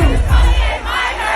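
A large concert crowd at a performance shouts and cheers in a loud, continuous roar with no clear speech.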